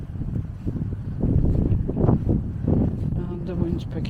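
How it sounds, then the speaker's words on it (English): Wind gusting on an open walking path, a loud rumbling roar buffeting the microphone throughout, with a person talking over it. "And the wind's picking up"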